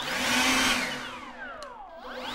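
A handheld blower runs loud and close, a steady broadband whoosh with a hum underneath, its pitch sweeping down and back up as the airflow shifts over a couple of seconds.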